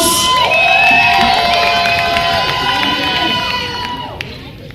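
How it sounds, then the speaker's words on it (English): Crowd at a celebrity cricket match launch event cheering and whooping loudly throughout, with shouts rising over a steady roar that slowly fades toward the end. "A big round of applause."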